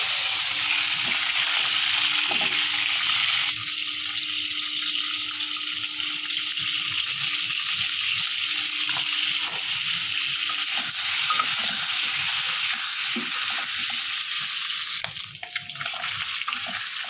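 Eggs fry in a pan with a steady, close hiss and crackle that continues throughout, with faint clinks and stirring sounds now and then.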